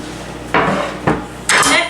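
A plate is set over a bowl of broccoli, giving three close, bright ceramic clinks spaced about half a second apart against a quiet kitchen background.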